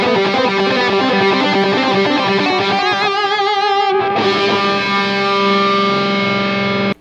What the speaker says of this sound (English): Just that pretty standard echo effect.